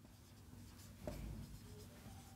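A marker or chalk scratches across a board in a faint, close stroke of writing, with soft scraping under a quiet room hum.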